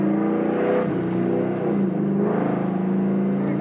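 A 2007 Ford Mustang GT with a BBK exhaust downshifts into third gear and its engine revs up, a loud close throaty drone with rising and falling pitch.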